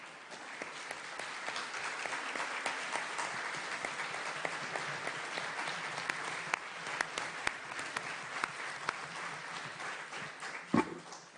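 Delegates at a States Parties meeting on a nuclear weapons prohibition treaty applaud steadily for about eleven seconds, a dense even wash of many hands clapping in a large hall, with one sharper knock near the end.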